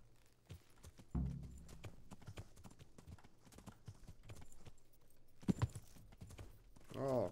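Horse hooves clip-clopping in the medieval game Kingdom Come: Deliverance, a stolen horse trotting at a quick, regular rhythm, fairly faint and close, with a couple of louder thuds and a short snort near the end.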